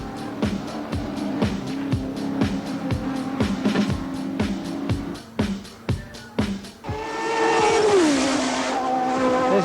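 Group A touring cars race at the 1985 Adelaide circuit, engines roaring past in a rapid series of loud passes, followed by a sustained high engine wail and a squeal of tires near the end.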